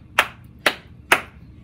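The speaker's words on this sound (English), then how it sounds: "Let's get our clapping hands going." Three crisp hand claps land evenly about half a second apart, close and clear, keeping time along with a children's days-of-the-week song.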